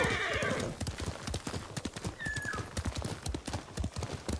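A horse gallops through grass in the video game Ghost of Tsushima: rapid, steady hoofbeats drum throughout, close and prominent, with a brief whinny partway through.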